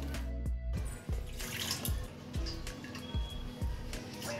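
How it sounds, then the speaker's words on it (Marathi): Water poured into a metal pot to measure it while making traditional maize kurdai, a steady splashing flow with repeated sharp drops and clinks across the whole stretch, close and fairly loud. "त्याला मापाने आपण पाणी घेणार आहोत"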